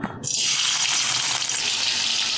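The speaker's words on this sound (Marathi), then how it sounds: "कढईमध्ये घालूया चार ते पाच चमचे तेल तेल तापलं की त्यामध्ये टाकायची ही लसूण" Crushed garlic cloves dropped into hot oil in a kadhai burst into a loud, close sizzle right after a brief quiet start, then keep frying in a steady, bright hiss.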